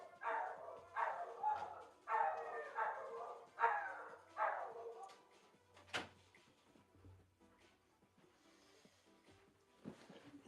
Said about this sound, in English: Oh, my dogs are howling.